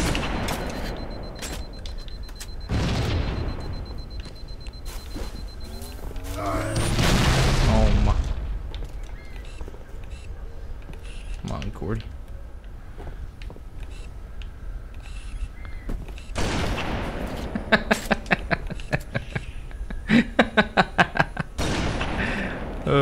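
Grenade blasts in a Halo match, a few heavy booms with a big swelling burst near the middle, mixed with other game noise and people talking over it.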